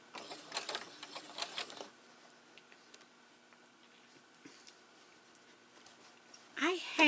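A sewing machine stitches two quilted fabric squares together along a quarter-inch seam, giving a quick burst of rapid needle clatter at the start, then fainter ticking and a steady hum, with a voice at the end.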